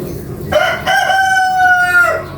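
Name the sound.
rooster crowing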